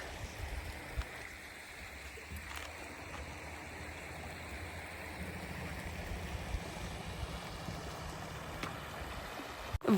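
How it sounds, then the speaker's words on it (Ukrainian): A mountain river flows beside a winter campsite on the Italy–Austria border, giving a continuous, even rushing wash at moderate distance with no speech. "І ось тут збоку тече річка."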